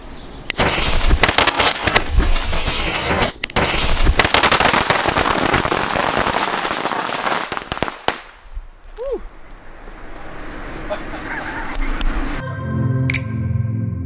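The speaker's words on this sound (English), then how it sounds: "So that's the barrel there that I'm gonna blow up. Barrel of fireworks." A barrel packed with fireworks is set off, unleashing a dense, continuous barrage of crackling bursts and pops for several seconds, then trailing off into sparse whistles and a quieter close.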